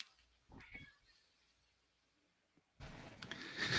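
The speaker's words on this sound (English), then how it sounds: "He came in to meow at me." A pet cat named Luther meows faintly in a quiet room, giving a short pair of soft calls near the start, followed by a louder rustling burst toward the end.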